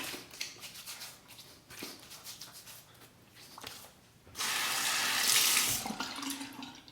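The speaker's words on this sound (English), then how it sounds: "Just a quick rinse." Water runs from a tap into a sink as a razor is rinsed between shaving passes, a loud steady splashing rush that starts partway through after quieter scraping and handling sounds.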